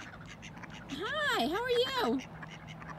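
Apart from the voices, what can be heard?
ducks quacking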